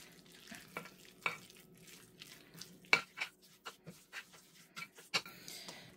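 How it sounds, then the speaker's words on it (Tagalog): A spoon stirs a cornstarch-bound mixture for upo soup, making faint, sporadic scrapes and soft wet clicks in a quiet room, with irregular gaps between the strokes. "Haluin natin ulit siya."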